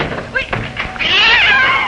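A cat meows loudly in a family film, a drawn-out wailing cry following some brief knocks and thuds, close and prominent.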